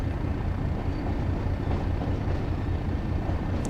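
In the Train Sim World video game, a train on the Tees Valley Line rumbles with a steady, dense, continuous roar that holds loud throughout, with no talking over it.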